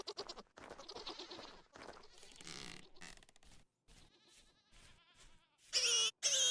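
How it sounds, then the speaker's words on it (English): Goats in the farming survival game Vintage Story bleat near and loud in a short burst at the end, after a stretch of varied game sounds and brief noises. "Alright, so the goats are fine."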